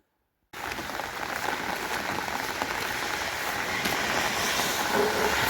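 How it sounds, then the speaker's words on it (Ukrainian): Steady rain pours down without a break, a dense, even hiss that begins abruptly and holds at a constant loudness with no voices. "краще змокнути під таким дощиком, ніж щоб була земля суха"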